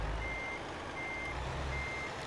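Steady reversing beeps from a truck backing up in a truck-driving video game repeat in three long tones over a constant low engine rumble, with no talking.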